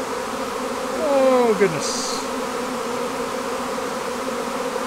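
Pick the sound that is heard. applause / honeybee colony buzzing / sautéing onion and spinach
honeybee colony buzzing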